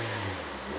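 A 2019 Toyota Yaris 1.5G with a CVT gives a short, steady rev, its engine hum loud and close with a strong low drone and no talking over it.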